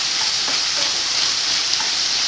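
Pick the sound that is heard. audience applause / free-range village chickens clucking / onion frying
onion frying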